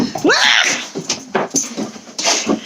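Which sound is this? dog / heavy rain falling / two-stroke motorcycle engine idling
dog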